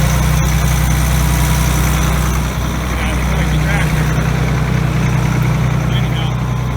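A large farm tractor runs at idle nearby, a loud, steady low rumble with continuous vibration and no change in pace, on a farm with a New Holland flexi-coil drill.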